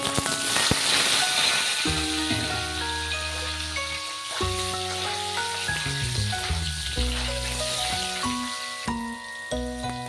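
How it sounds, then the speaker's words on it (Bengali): Jackfruit pieces frying in oil for a Bengali jackfruit and prawn curry give a steady close sizzle through the whole clip, with background music playing alongside. "ওই তেলেই আমি এঁচোড়গুলো ভেজে নেব।"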